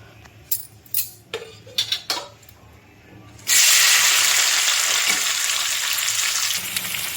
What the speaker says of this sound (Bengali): এবার ওই তেলের মধ্যে মাংসর যে পেঁয়াজটা সেটা ভালো করে ভেজে নেব